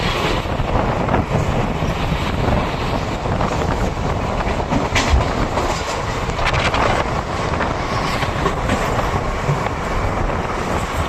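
A Bidar–Kalaburagi DEMU train runs on the rails with a steady, close rumble and faint clatter under constant wind buffeting, no voices present.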